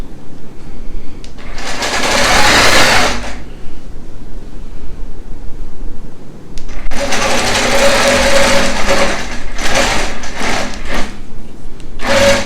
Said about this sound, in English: when I stitch this, I want to stitch all the way off the edge